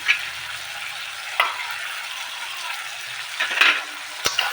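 Fried potatoes and shrimp masala for chingri do peyaji fry in a pan with a steady close sizzle, while a spatula stirs and scrapes in several sharp knocks and clatters, with no talking.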